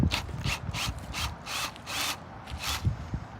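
Ratcheting tool backing out the screws of a drain grate, giving a steady run of quick rasping clicks in short repeated bursts, close and loud with no talk.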